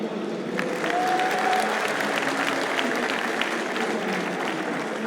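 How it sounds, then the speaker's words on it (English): An esports crowd at a Battlefield 4 finals event gives a polite round of applause, a dense patter of clapping held steady for several seconds while a commentator talks over it. "That was like a polite clap there"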